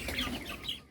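Chickens on a broiler chicken farm cluck in a dense, continuous murmur, several birds close by, with overlapping short calls and no talk.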